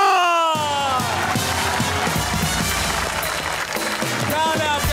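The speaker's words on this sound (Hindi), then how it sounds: "put your hands together for Myra" A television comedy talk show's studio audience cheers and applauds as an actress guest comes on, a loud, sustained wash of clapping and whoops with voices rising over it at the start and end.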